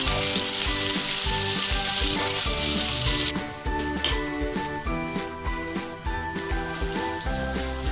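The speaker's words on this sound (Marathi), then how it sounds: "आपल्याला हे कांदे डार्क ब्राऊन होपर्यंत होऊ द्यायचे आहे साधारणतः आता आपल्याला स्लो फ्लेमवरती पंधरा मिनिट ठेवायचे आहे" Onions frying on a slow flame until dark brown for a spicy Maharashtrian onion bhaji, a loud steady sizzle with crackling bursts running through the whole stretch, no voices.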